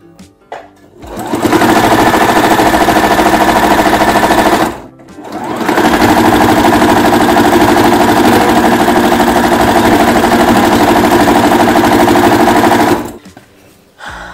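A sewing machine stitches a fabric grocery bag holder in two long, loud, steady runs of close mechanical chatter, with a short stop between them. No one speaks.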